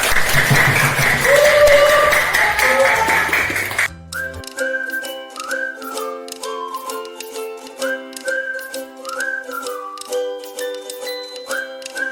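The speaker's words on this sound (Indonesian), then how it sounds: "tepuk tangan." An audience breaks into loud applause for about four seconds, then the clapping cuts off and gives way to a bright tinkling melody.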